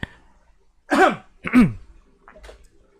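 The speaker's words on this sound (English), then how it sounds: "I should clear my throat before starting this whole thing" Two harsh throat-clearing bursts close to the mic, spaced about half a second apart, followed by a faint softer rasp.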